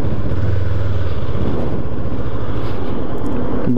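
A Honda CB 500X motorcycle ridden on a highway, a loud, steady engine drone with heavy wind rush close to the microphone, the pitch holding fairly constant throughout.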